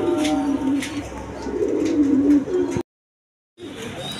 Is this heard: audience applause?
no